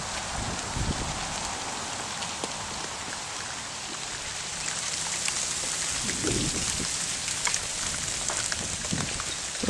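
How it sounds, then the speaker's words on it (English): Ice falling from trees during an ice storm, a steady wash of crackling, pattering impacts with a few louder clattering bursts, fairly faint and without speech. "That is the sound of ice falling."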